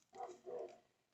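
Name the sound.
dog barking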